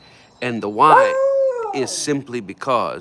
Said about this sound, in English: that's my dog, he's not getting attention